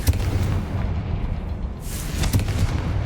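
A Confringo fire spell in the video game Hogwarts Legacy explodes in a deep, rumbling boom, with a second burst near the end over a dense low roar.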